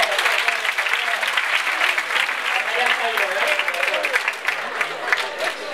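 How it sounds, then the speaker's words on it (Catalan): Audience at a live comedy show applauds loudly and continuously, a dense, even roar of many hands clapping that eases slightly near the end. "És un bon aplaudiment per la seva desubicació."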